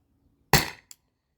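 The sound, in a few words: air launcher shot on Umarex 12-gram CO2 cartridge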